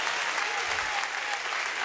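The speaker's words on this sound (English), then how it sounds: "it's starting to feel like college football season when I hear that cheering there" A church congregation claps and cheers in a dense, steady wash of applause that fills the room without letup.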